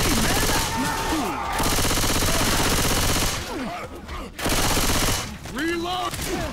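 Rapid gunfire from a zombie shooter game, Left 4 Dead, in dense overlapping bursts, loud and continuous with brief gaps, under shouting voices.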